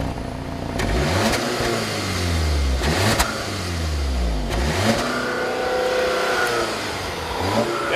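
2015 Audi A3 with a 2-liter engine accelerating hard through several gear changes, each rising engine sweep cut by a shift, with a fairly soft, restrained exhaust note heard from outside.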